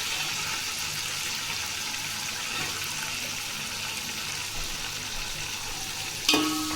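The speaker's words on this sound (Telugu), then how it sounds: "ఇప్పుడు ఉల్లిపాయలు వేస్తాం." Onions fry in a pan while coconut rice with mint chutney is being cooked, a continuous close sizzle with light stirring, then a sharp clatter near the end.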